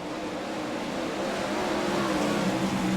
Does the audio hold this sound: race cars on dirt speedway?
yes